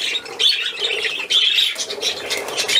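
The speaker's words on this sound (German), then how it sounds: "Alte Möwe." Old seagull giving repeated harsh squawks, loud and close, with no talk over the calls.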